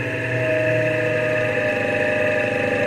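A DC motor with a brushless controller runs under load from a power supply, giving a steady close whine and hum that holds a constant pitch through the brief stretch, with no talk.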